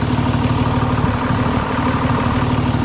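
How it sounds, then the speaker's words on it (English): An International 4300 SBA 4x2 flatbed truck's engine runs loud and close with a steady, continuous low rumble, held at a constant throbbing level. "Hey, I'm gonna rev it up for you guys."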